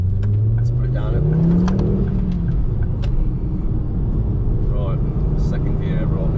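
Ford Focus ST2 engine accelerating hard in second gear, a loud in-car rumble with the engine note rising steadily and then settling into a sustained drone.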